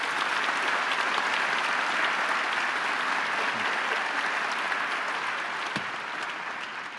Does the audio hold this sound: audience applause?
yes